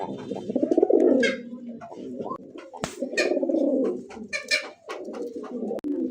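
Satin pigeons at a pigeon market coo in repeated low, throaty rolls. The cooing is close and clear, mixed with occasional chirps and sharp clicks.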